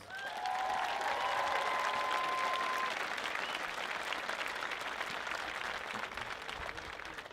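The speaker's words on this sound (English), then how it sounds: "Let's give them a round of applause, please." An audience at a 2023 high school commencement ceremony applauds the graduating class, a dense, sustained wash of clapping that fills the hall and fades slightly toward the end.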